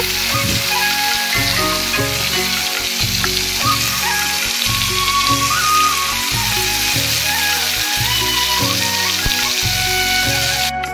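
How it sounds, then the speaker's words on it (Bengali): Tomatoes and chilli sautéed with salt and turmeric powder in a pan, a loud steady sizzle and hiss with stirring clatter over a persistent low rhythmic hum, close and continuous. "তো এগুলো দিয়ে নেড়ে চেড়ে একটু কষিয়ে নেব।"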